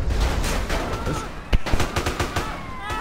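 Gunfire erupts in GTA San Andreas, several sharp shots and a short burst landing in the second half over a busy game background.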